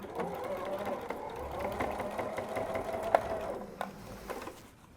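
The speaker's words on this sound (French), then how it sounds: "je vais coudre très près de mon pli, comme j'ai fait pour" Domestic sewing machine stitching close to a fold on a bodice sleeve seam, a steady close mechanical whirr with a few light clicks and a brief pause near the end.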